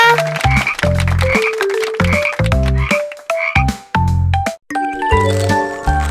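Cartoon frog croaking in a repeated series of loud, deep, bouncy croaks mixed with bright tinkling chimes and dings, rhythmic and close.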